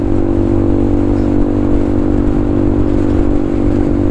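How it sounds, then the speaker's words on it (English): A steady, loud KTM Duke 390 motorcycle engine drone with a low rumble runs throughout, cruising at about 60 mph, with wind noise mixed in. "I can still hear my exhaust."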